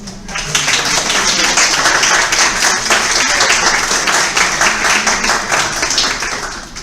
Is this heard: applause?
yes